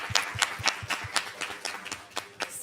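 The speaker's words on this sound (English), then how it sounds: "I would just like another real hand applause for Carole." Audience applause for a speaker at a COP28 Indigenous Peoples Pavilion event: a small group claps in sharp, irregular beats that thin out toward the end, close and moderately loud.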